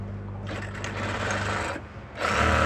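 A sewing machine stitches a blouse seam in a close, continuous whirring run that dips briefly near the end, then picks up again louder.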